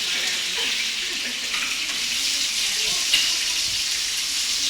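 Beef sizzles steadily in a hot frying pan, a continuous bright crackle with occasional stirring scrapes as it is turned, close and fairly loud, no talking.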